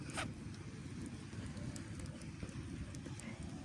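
Bonfire burning at night outdoors in Pitsunda, Abkhazia, in winter, with belongings fed into the flames: a steady broadband crackle and rush of fire, close and continuous, with a few sharp pops and no talk.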